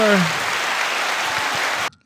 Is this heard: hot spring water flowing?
no